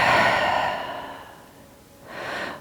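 An audible exhale during a yoga class, a soft breathy rush that fades out, then a second shorter breath swells up near the end, close and fairly quiet with no talking.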